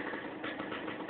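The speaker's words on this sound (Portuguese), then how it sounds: "É minha motorizada, Zundap, EFS." A 1964 Zundapp EFS 220 motorcycle engine idles steadily and close by, a continuous mid-pitched engine drone with a slight uneven throb and no talk over it.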